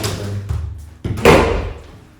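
A door is forced open in a cramped room: a few heavy thumps and rattling knocks, with a louder scraping bang near the end, close and loud.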